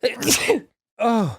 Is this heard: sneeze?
yes